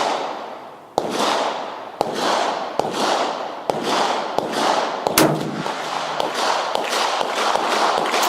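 An impulsive train of sharp reports with long ringing tails, roughly a dozen spaced through the stretch, loud and echoing, fitting rifle fire from an M95/30 carbine shooting surplus military ammunition.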